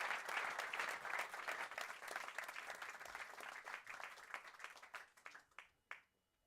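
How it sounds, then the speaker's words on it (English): An audience at a forum applauds panel speakers with dense, sustained clapping that thins into scattered individual claps before fading out, fairly distant and moderate in level. "please give them a warm round of applause"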